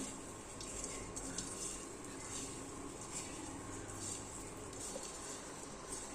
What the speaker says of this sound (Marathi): छान मिक्स करून घ्यायचं आहे छान कुस करून घ्यायचं आहे